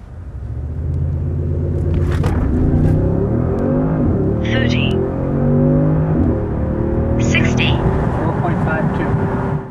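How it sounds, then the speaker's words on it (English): A 2018 Audi S6 holds steady revs under launch control with a loud, continuous engine drone and deep rumble heard from close by, the pitch rising slightly as it strains, with no break in the sound. "And then you release the brake, that's launch control."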